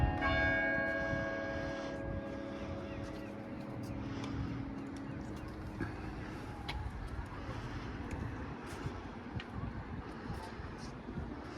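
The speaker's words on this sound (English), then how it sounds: "here we are at the top of the tower, bell tower at Beccles. And here go the bells." A church bell rings out loudly at the top of the Beccles bell tower, its long humming tone fading over several seconds while wind buffets the microphone and faint traffic continues below.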